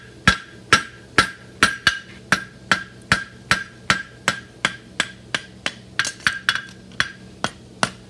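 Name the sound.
hammer striking metal edge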